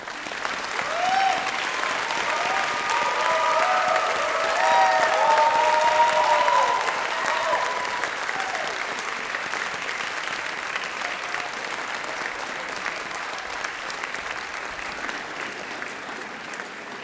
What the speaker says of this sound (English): join with me in a loud applause to thank them for all that they've done for you